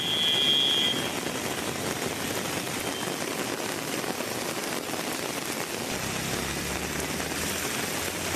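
Heavy rain pouring steadily onto roads in Tamil Nadu, with water running across the surface, a dense constant hiss without speech.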